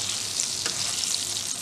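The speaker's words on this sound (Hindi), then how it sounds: "पलट देंगे ताकि दूसरा साइड भी अच्छी तरह से फ्राई हो जाए" Chicken pops sizzle and crackle in hot oil after being turned over, a steady close frying hiss with small scattered pops and no talk.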